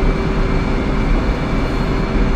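An aircraft taxiing off the runway in the DCS World flight simulator gives a loud, steady engine rumble and hum that stays constant throughout.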